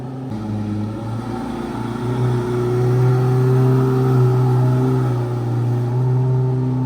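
Aston Martin V12 with a manual gearbox revving, a deep droning engine note that climbs and swells in loudness midway and then holds, close by and alone.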